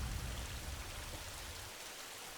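Steady rain falls in a dense, even wash of patter with a low rumbling undertone, continuous and close throughout.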